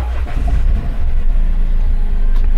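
A 2017 Mini Cooper's engine starts via its toggle switch, settling into a steady, close low rumble that swells slightly after the first second.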